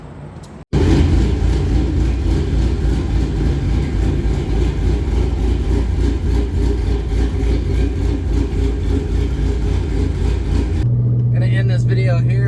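A truck engine runs steadily and loudly during a test drive after a front-end suspension rebuild with new shocks, a constant low rumble that starts suddenly and changes near the end. A voice is heard over it.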